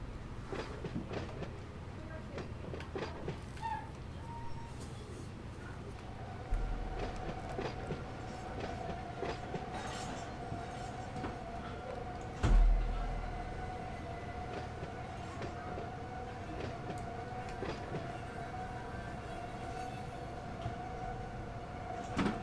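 Freight train rumbling along in Run 8 train simulator on an Edison local run, a steady low drone with clicks and a brief louder thump midway, continuous throughout.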